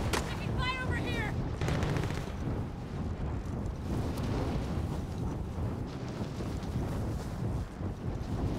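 Gunfire in a video game, a dense, loud rumble of shots and explosions blending into continuous noise, with a brief burst of chatter early on.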